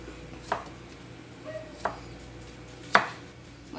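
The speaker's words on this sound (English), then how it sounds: "slice it on an angle, really thin, and then you turn them on their side and do little tiny thin matchsticks" A knife strikes a cutting board while cutting carrot into thin matchsticks, giving three sharp, spaced cuts over quiet room tone.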